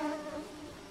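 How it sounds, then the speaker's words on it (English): Insect-like buzzing of flies swarming around a woman character in the island video game Small Island Woes, a brief, steady drone with wavering tones heard close and alone. "You hear the buzzing of flies coming from the woman."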